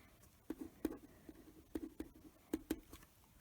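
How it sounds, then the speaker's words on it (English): Pen or marker strokes on a board sound as a handful of short, quiet scratching and tapping bursts in uneven rhythm, close by, with no talking. "let me write that in blue up here"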